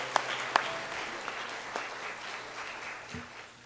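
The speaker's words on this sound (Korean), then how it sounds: "크게 박수로 환영하겠습니다" Church congregation claps to welcome a visiting pastor before the sermon, a couple of sharp close claps at the start, then a softer, fading spread of applause across the room.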